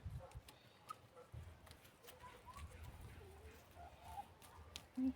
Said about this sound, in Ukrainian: Які курочки і півники тут.